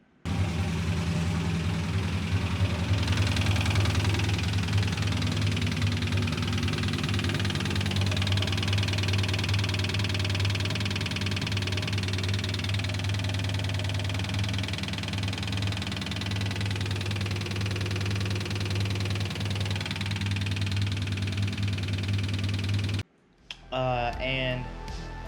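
A drift car's engine idles with a rough, rhythmic knocking beneath its steady low drone, running loudly for most of the stretch before cutting to brief rustling.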